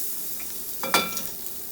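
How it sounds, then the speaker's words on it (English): Dr. Praeger's vegan burger frying in a hot pan gives a faint, steady sizzle, with a brief louder crackle and clatter near the middle as it is moved. "as you can see, it's sizzling and hot"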